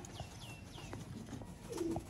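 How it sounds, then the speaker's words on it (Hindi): Sialkoti pigeons from Master Abdullah's line, cooing softly with a few low, rolling calls and light sounds of movement in a quiet setting. "ये हैं दोस्तों मास्टर अब्दुल्ला वाले सियालकोटी कबूतर।"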